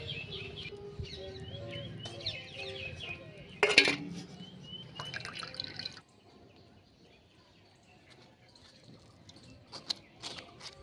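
Grated potato being rinsed with water and strained through a sieve makes splashing and dripping with clinks of kitchenware for about six seconds, then quiet scattered drips and small taps.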